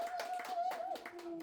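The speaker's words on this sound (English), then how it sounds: "And a round of applause if you think Miles won." Audience applause at a live comedy debate show, a short burst of clapping from the crowd with a steady tonal hum running underneath.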